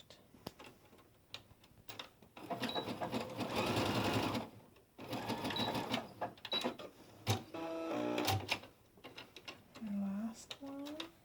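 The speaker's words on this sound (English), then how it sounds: "Just going to sew right where you marked." A sewing machine stitches a thumb hole cuff on a women's raglan top, running in several close, steady mechanical bursts with short pauses, followed by brief talking near the end.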